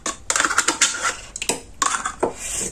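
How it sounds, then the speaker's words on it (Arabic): Caramel being stirred into flan mixture in a bowl, with repeated clinking and scraping of a utensil against the bowl in quick irregular bursts, fairly close and clear, with no talking. "غناخذ واحد دانيط كراميل نخلطو مع هاد الفلون ونحركو مزيان حتى ينسجم لنا الخليط"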